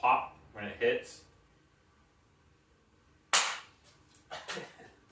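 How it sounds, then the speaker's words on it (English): A dropper popper toy from Arbor Scientific pops sharply as it hits a surface, two loud snapping cracks about a second apart, with speech before them. "It has a very, very satisfying pop when it hits."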